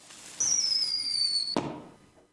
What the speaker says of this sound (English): So let me just wander over and light the first firework.